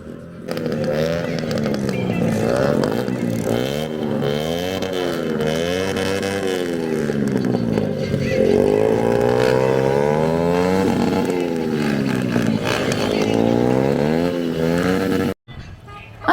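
Customized vehicles, cars and motorbikes, driving around the island of Niue, with loud engines revving and pitch sweeping up and down over and over for about fifteen seconds before cutting off abruptly.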